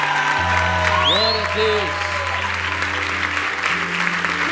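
A church congregation applauds during a worship service, a broad steady roar of clapping beneath a sustained musical drone and a voice singing over it, fairly loud throughout.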